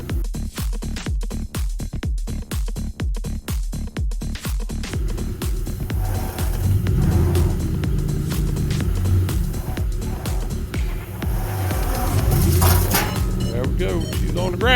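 A manual car shifted into gear and driven off after repair work: rhythmic engine chugging at first, then a louder, fuller running engine rumble as it pulls away, with people talking over it.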